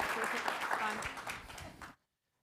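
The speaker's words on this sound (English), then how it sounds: "Let's give a round of applause to Harold, Dr. Gordon, and Jesse" An audience at a workplace diversity and technology conference applauds the panel speakers with a dense, steady wash of clapping mixed with voices, which cuts off abruptly to silence.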